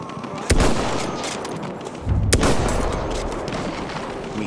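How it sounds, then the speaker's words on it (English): Battlefield 1 combat brings sharp, loud gunshot cracks, one near the start and another a bit later, above a constant rumbling background of distant battle noise, with nobody speaking. "There's an enemy machine gun!"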